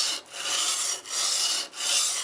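A plane blade is pushed and pulled face down across an oil stone to remove the burr, giving a close, gritty scraping rub in a few long strokes separated by brief pauses.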